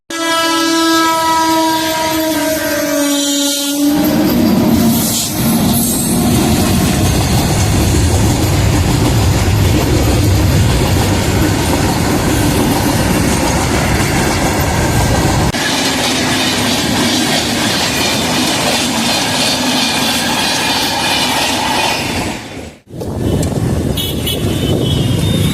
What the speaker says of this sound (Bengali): গেট পড়েছে স্টেশনের, এটা গেট, এবং ট্রেন আসছে।